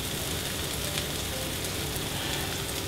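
Bammy, a cassava flatbread, frying in a pan on the stove for ackee and saltfish, a steady dense sizzle close up with no voices.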